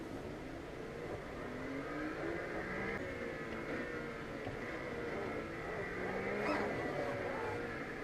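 A race car engine in the RaceRoom Racing Experience driving sim howls and revs steadily while the car drifts through a corner, its pitch rising and falling, loud and continuous with no talking.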